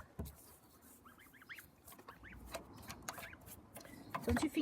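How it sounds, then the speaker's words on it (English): Birds call outdoors, with scattered faint chirps and clucking fowl-like calls in the distance, over quiet rustling and light handling noises nearby. "Don't you think it's very relaxing to hear all these birds noises?"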